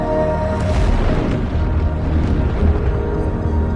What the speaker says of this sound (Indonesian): turun dari mobil sebelum mobil itu meledak